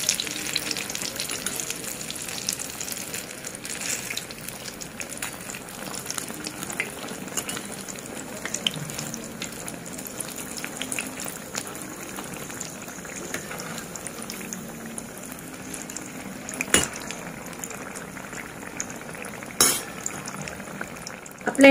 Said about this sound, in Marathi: आता आपण या मिरचीची दुसरी साइड आहे ती पण आपण फ्राय करून घेऊया।